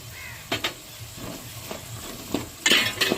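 Spices and green peas being stirred in hot oil in a pan while making green peas rice, with soft intermittent scraping strokes and a faint sizzle, a couple of sharper clinks near the end.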